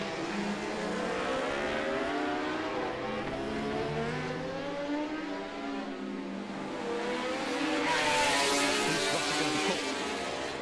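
Racing motorcycles at the Macau Grand Prix scream past, engine pitch sweeping up and down through gear changes, with a louder surge of noise near the end as bikes pass close.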